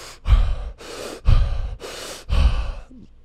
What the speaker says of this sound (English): So it's 30 deep breaths like this.